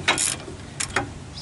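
A ratchet loosens the caliper bracket bolts on a 2008 Nissan Versa during a brake and axle repair, giving two short, close bursts of sharp clicking with a pause between them.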